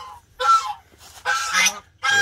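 Domestic geese kept beside a fenced nesting spot honk loudly and close by in three harsh bursts separated by short pauses.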